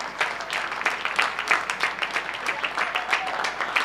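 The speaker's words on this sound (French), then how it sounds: "ouais, tous ces applaudissements nous touchent" Audience applause at a live event, steady dense clapping that stays loud and even throughout, fairly close.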